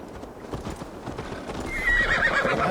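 Horses in Assassin's Creed Valhalla gallop in quick, dense hoofbeats, with a whinny near the end as the riding noise grows louder and closer.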